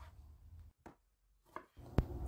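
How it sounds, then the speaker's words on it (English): A knife cuts Roma tomatoes into quarters, giving three soft, separate thuds on a board with short quiet pauses between them. "So you're gonna cut 2 Roma tomatoes into 1/4."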